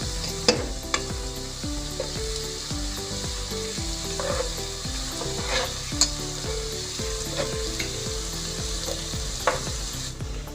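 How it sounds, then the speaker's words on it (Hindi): Garlic and ginger paste frying in a pan for vegetable pulao, a loud continuous sizzle with repeated scraping stirs and occasional metallic clinks, with no voices. "अब इसमें हम ऐड करेंगे लहसुन और अदरक का पेस्ट। और इसे भी मिक्स कर लेंगे इसके अंदर।"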